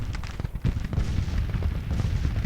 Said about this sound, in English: We got Pogue firing from over here.